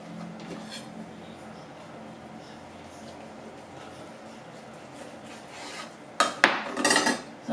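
A knife slices through a set minced-meat roulade with paprika on a board, quiet scraping for several seconds, then a burst of louder clattering cuts near the end.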